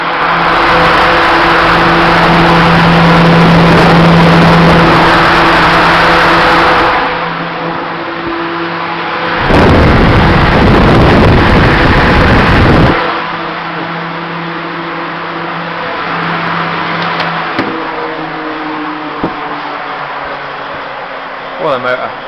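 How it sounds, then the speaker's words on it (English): A 19-inch Woods axial fan with a three-phase motor running on single phase drones loudly and steadily, with a hum and a whooshing airflow. A heavier rumbling surge of several seconds rises partway through before the fan settles back. "running a 3-phase fan on single phase."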